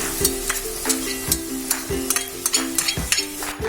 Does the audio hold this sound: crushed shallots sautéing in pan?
yes